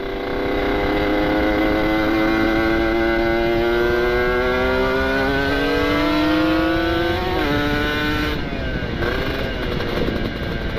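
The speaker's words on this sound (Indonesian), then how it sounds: "Enak banget kayaknya motor Om Wisen" A motorcycle engine running steadily while riding on a motovlog ride, its harmonic drone rising and falling with changes in speed and gears, loud and close, with no talking.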